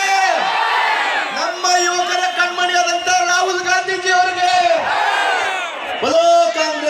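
A large rally crowd in Bellary chants and roars in unison for Rahul Gandhi, loud and sustained, rising and falling in several waves of massed voices.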